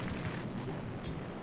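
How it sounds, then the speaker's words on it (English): Explosions in the video game Bad Rats: a dull, rumbling burst with a booming tail, fairly quiet and heard alone. "Explosions!"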